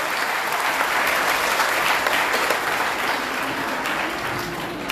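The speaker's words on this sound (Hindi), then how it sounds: "जोरदार तालियां।" An audience applauds loudly and steadily at a sewing-machine donation event held by a charitable foundation, the dense clapping filling the whole stretch and easing slightly toward the end.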